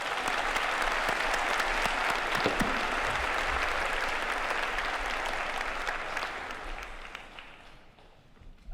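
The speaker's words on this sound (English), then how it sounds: "How about another round of applause for our choir?" Graduation audience at Wahconah High School's 2022 ceremony applauding the choir, a dense, steady roar of many hands clapping that holds for several seconds before tapering slightly at the end.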